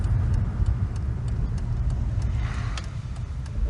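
BMW E46 330ci with the M54 straight-six engine idling, a smooth, steady low rumble held at an even level throughout, with faint regular ticking above it and no talk.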